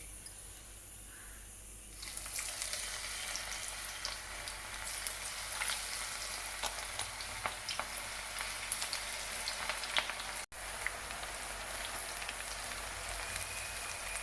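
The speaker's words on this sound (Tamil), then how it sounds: "எண்ணெய் நல்லா காஞ்சிடுதுங்க வாங்க பகோடா போட்டு எடுத்துக்குவோம்" Cauliflower pakoda frying in a pan of hot oil, a steady dense hiss and crackle that swells in after a quieter start and holds on, close and fairly loud, with a brief dropout near the end.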